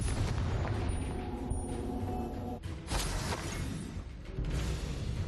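A Confringo fire spell goes off in Hogwarts Legacy, played on Switch, as a dense roaring blast that keeps rumbling for several seconds, with a sharper burst in the middle.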